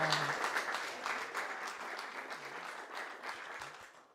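An audience claps at a talk on regenerating Cascadia, a dense, steady burst of applause that starts strong and slowly fades over a few seconds.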